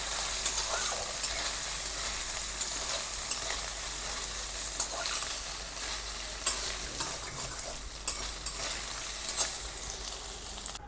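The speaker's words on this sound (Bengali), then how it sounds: "সয়াবিন, সয়াবড়ি, যেটা হয়, একটু ভালো করে ভেজে নেব।" Soya chunks frying in a pan of oil, a loud, continuous close-up sizzle with crackling and occasional stirring scrapes, no voices over it.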